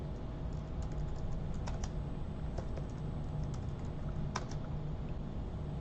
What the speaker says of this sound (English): now we're going to type the command array